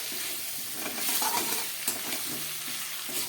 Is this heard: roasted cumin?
yes